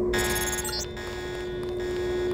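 Alarm sounding in Deus Ex, a steady electronic tone holding continuously over a dense background, loud and unbroken with no speech.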